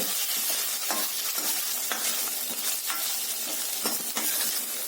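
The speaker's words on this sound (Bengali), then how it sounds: "দেখুন চিকেন খুব ভালোভাবেই ভেজে নিতে হবে।" Steady crackling sizzle of chicken frying in a hot pan, dense and continuous, with occasional sharper pops and faint scraping.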